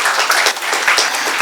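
Conference audience giving a round of applause, dense steady clapping from many hands filling the whole short moment, fairly loud and close.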